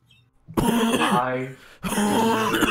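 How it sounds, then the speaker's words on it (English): Several rough, voiced throat-clearing coughs from one person close to the mic, a short burst then a pause and another strained hacking cough. "I'm coughing again."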